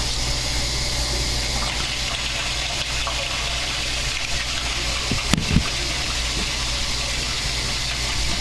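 Water runs inside an underground sewer pipe with a hole in its top, a steady hollow rushing wash that fills the space evenly throughout, with a couple of brief knocks near the middle and no voices.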